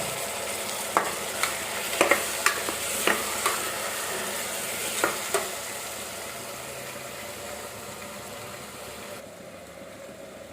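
Ground mint paste for pudina pulao hits a hot frying pan and is stirred: a run of sharp spatula knocks and scrapes over a sizzle that dies down to quiet near the end.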